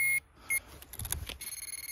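A metal detector pinpointer gives short electronic beeps while searching for an iron target in the ground, with a few separated tones at first and then a quick rhythmic run of pulses near the end.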